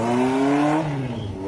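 A 1983 Honda CB650 SC Bobber motorcycle engine droning loudly as it rides down a city block, the steady tone sliding lower and fading slightly as it moves away.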